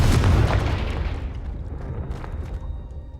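A Confringo fire spell explodes in the Hogwarts Legacy video game. A loud, booming blast opens the clip and fades into a long rumbling decay. There is no talking.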